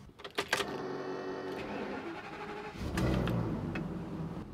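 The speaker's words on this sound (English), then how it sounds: "Now let's go start the engine." An RV engine cranks briefly and then catches, settling into a steady idle after a few sharp clicks, heard fairly close in a quiet interior.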